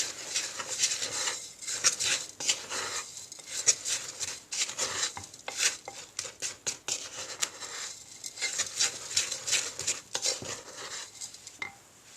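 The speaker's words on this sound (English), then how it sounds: "you just put a little bit in, stir it up really, really good" A spoon briskly stirs incense mixed with wine in a bowl, giving a steady close run of scraping, clinking and patting sounds with no talk.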